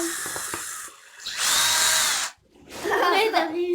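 A power drill drives screws into pre-drilled wood, giving two loud sustained whirring bursts with a short pause between them and a voice talking over the start.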